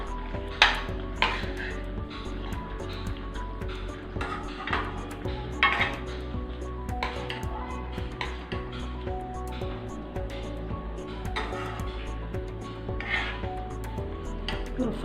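Spoon stirring fish curry with seer fish in a metal cooking pot, giving repeated close clinks and scrapes against the pot over a steady low hum, continuing throughout without talk.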